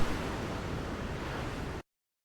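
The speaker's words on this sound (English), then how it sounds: "Some sound from the ocean." Ocean waves wash in a steady, full noise at the close of a song, heard alone for under two seconds before cutting off abruptly.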